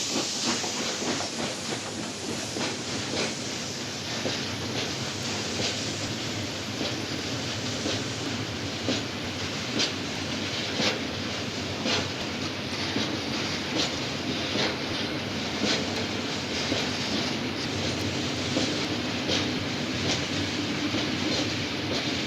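A German BR 42 steam locomotive running, with steady loud hissing steam and a continuous rumbling rail roar, faint rhythmic clatter underneath, no voices.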